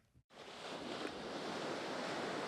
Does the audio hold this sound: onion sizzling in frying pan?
no